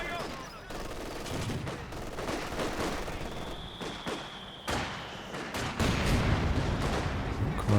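Vickers machine gun with veterancy firing at long range in Company of Heroes 2, heard as repeated bursts of gunfire inside dense battle noise with other shots and blasts throughout.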